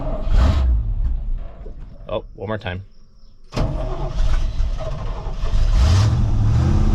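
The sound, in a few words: truck engine starting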